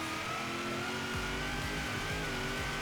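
Supercharged car engine revving in Forza Horizon 3, a loud continuous drone with a rising supercharger whine as the revs climb and shift, heard up close with no talking.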